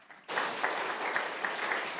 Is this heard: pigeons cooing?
no